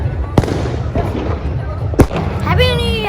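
New Year's Eve fireworks burst outside at Digha, two sharp loud bangs about a second and a half apart over a noisy crowd, with whistling rockets rising near the end.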